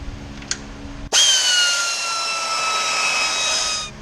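A cordless impact wrench or air ratchet with a 10mm socket runs on transmission pan bolts of a Kia Spectra, giving one continuous high whine that lasts nearly three seconds after a brief click, close and loud.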